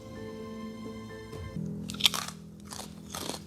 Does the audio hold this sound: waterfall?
no